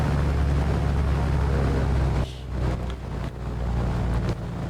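Simulated single-engine Piper PA-25 propeller engine in a flight simulator game, a steady loud drone that drops abruptly to a lower, rougher idle partway through, with no talking.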